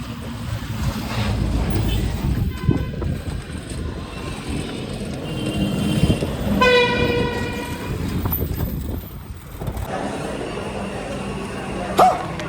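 A train at a railway station, a loud rumbling roll of wheels and cars with a sustained horn blast midway, heard up close in a noisy outdoor setting with windy buffeting.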